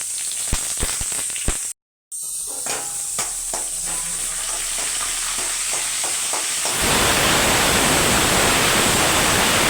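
Seeds for lemon rice fry in hot oil with a loud, close sizzle. Scattered pops come early, then a brief silence, and the hiss later swells into a steady, stronger frying roar.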